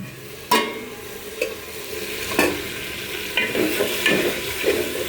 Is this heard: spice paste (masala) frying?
yes